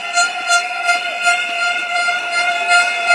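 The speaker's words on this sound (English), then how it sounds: "Can I hear the air horns?" Air horns blasted by a crowd at a Nee Soon GRC election rally in Singapore, a steady, sustained layered blare with repeated rhythmic pulses and crowd noise throughout, no talking.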